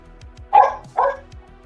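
A dog gives two sharp, close barks in a row over a low, steady background hum, with no talking during the barks.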